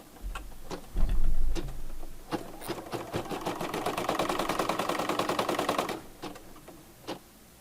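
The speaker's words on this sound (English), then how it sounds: "So this is the placement stitch." An embroidery machine sews a placement stitch in the hoop for a zipper bag, a fast rhythmic run of needle strikes lasting a few seconds, with scattered single clicks and thumps before and after.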